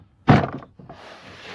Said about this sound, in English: it's just a case of going round and giving it a tap back in